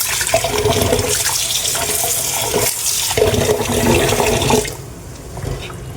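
Water gushes steadily from a tap while large red Sankara fish are rinsed in a bowl, a loud continuous splashing rush that drops off abruptly near the end to a quieter trickle.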